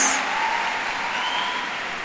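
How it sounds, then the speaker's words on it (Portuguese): A church congregation at a women's worship event in Aracaju applauding God, a dense continuous wash of clapping and cheering that stays loud throughout. "Pode aplaudir a Deus se você quer aplaudir, pode aplaudir"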